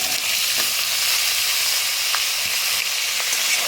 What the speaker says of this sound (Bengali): বেগুনটাকে আমি হাই ফ্লেমে একটু ভেজে নেব।